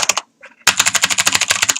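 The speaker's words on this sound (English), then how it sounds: "We're still typing lowercase." Rapid clicks of keys on a computer keyboard come up close and loud, typing lowercase: a short burst, a brief pause, then a fast, even run of keystrokes.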